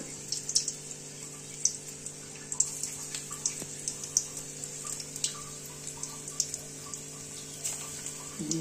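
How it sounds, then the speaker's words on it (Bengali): Coriander leaf fritters fry in hot oil in a kadai. A soft continuous sizzle carries scattered sharp crackles and pops throughout, close by, with no talking. "এবার আমি ভাজবো।"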